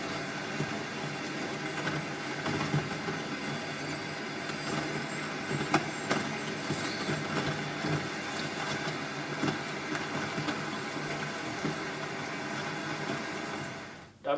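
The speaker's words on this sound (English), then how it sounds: "you can hear some of that infrasound sped up," Natural infrasound sped up into the audible range comes through as a steady, faint, rumbling wash with scattered clicks and rattles, sounding much like wind buffeting the microphones or a distant passing train.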